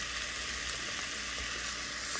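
A steak cooks in an oiled waffle iron, giving off a soft, continuous hiss of sizzling for a couple of seconds with no talk.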